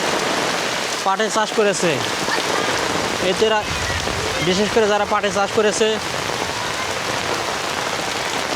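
Heavy rain pours down steadily on a rural farmstead in a village where jute is grown, a dense continuous hiss running throughout, with a person speaking over it for much of the time.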